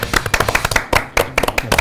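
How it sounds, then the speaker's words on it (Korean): Studio audience applause welcoming a guest onto a local talk show, loud, close rapid claps in brisk uneven bursts with a short lull midway. "박수로 모시겠습니다"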